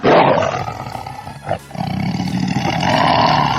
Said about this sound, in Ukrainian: Тигр.